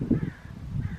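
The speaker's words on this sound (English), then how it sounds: "I can hear the crows." Crows caw in a short harsh burst, a couple of calls heard outdoors at moderate distance with no voices over them.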